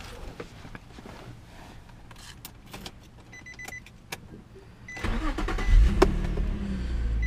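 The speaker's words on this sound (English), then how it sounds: "I've had several requests for a startup and run test of my 2005 Infiniti G35. So go ahead and start it up here." A 2005 Infiniti G35 with a V6 starts about two-thirds of the way in and settles into a steady idle. Clicks and a motor whir come before the engine catches, all close and without talk.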